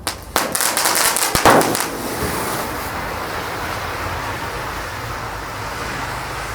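A cluster of small firecrackers and a telur dino firecracker go off inside a gallon container outdoors, a burst of sharp cracks and pops with a fizzing spray, settling into a steady background rumble of traffic-like noise.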